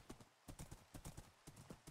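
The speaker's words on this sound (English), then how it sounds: "I'm glad that I have a horse." A horse's hooves clip-clopping in Minecraft, a steady, even trot of close but soft hoofbeats with no talk over them.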